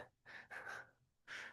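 A person yawns during a yoga class, with a few breathy, airy bursts of inhaling and exhaling that are quiet and close, separated by short pauses and with no talk.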